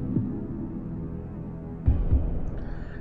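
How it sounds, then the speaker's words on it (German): A steady throbbing heartbeat tension sound from the Wer Wird Millionär video game pulses low and muffled under a hum, with a louder thump partway through. "Dieser Herzschlag macht es für mich nicht gerade unbedingt einfacher."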